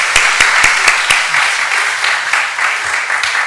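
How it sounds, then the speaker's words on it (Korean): Church congregation applauding in thanks after a hymn during an afternoon service, brisk clapping from many hands with a few sharp, distinct claps at the start, steady and fairly loud throughout. "우리 다시 한번 감사의 박수 하겠습니다"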